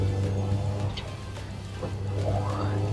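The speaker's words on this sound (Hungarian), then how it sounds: "a turbónak a fütyülése, nem viccelek, az szinte elnyomja a motorét" A turbocharged Nissan Sunny GTI-R with roughly 350 horsepower, its steady low engine drone topped near the end by a rising turbo whine, with no talking.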